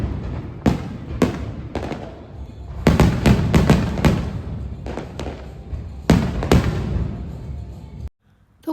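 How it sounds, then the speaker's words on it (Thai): Fireworks over Sunset Town on Phu Quoc island burst in a rapid series of loud, booming explosions with crackling tails, some close together, followed by a brief silence at the end. "ทุกคนพลุมาแล้วเป็นพลุคืนแรกของเฮาที่อยู่ซันเซ็ตทาวน์สวยมากจ้า"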